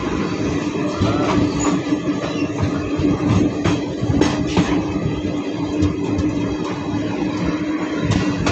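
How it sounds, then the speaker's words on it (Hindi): A passenger train in India rolls steadily along the rails on a summer evening near Dighwara, with continuous rumble and clattering wheel noise, close and loud throughout. "हमारी ट्रेन दिघवारा पहुंच चुकी है"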